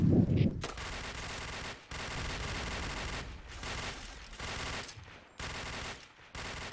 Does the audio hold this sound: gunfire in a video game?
yes